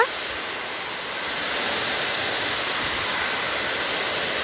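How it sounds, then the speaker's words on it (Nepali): Water from a village waterfall rushes in a steady, broadband hiss that swells slightly after the first second and then holds constant, close and fairly loud, with no voices. "हाम्रो गाउँको भाइरल झरना हेर्नुहोस् है"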